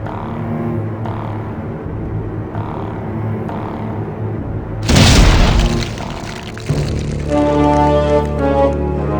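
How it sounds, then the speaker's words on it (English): A loud explosion bursts out in the adventure game Grim Fandango, breaking into a crackling, debris-like roar that ends in a tinkling, pouring tail over a continuous game music bed. "Dude exploded."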